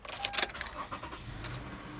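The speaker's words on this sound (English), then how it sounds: "I'm gonna start the car right now." A 2010 Toyota Sienna XLE minivan engine starts, heard faintly with a brief starter crank followed by a low, soft idle rumble.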